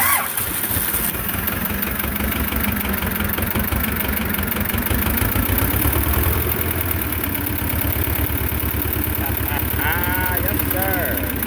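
A Belarus 250 tractor with a fuel delivery problem cranks and struggles to run as more throttle is given, a loud rough mechanical churning throughout, with people talking over it.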